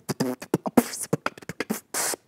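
Mouth-made beatbox percussion: a quick run of sharp kick, snare and hi-hat imitations in an uneven, punchy rhythm. The sounds are close and clear with no backing.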